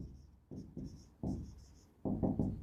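Chalk or marker writing on a board in a physics lecture: short scratchy strokes in quick bursts, close and fairly quiet, with no talking.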